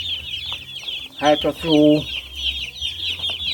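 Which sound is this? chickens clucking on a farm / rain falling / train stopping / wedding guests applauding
chickens clucking on a farm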